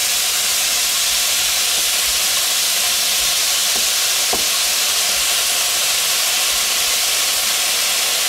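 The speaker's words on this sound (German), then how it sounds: "Und dann brutzeln wir das auch noch schön an." Pork with beans and mushrooms sizzles hard in a wok, giving a loud, steady frying hiss with a few faint clicks and no voices.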